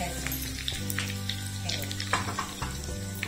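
Curry leaves dropped into a hot mustard-seed tempering for a carrot salad sizzle and crackle steadily up close, with soft stirring, in a home kitchen.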